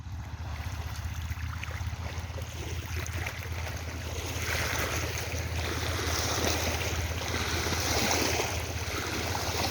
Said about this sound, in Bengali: ঢেউ আসছে বড় ঢেউ